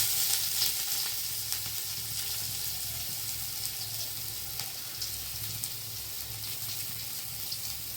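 Chopped onion and garlic fry in a pan with a continuous hissing sizzle close by, steady throughout with faint clicks.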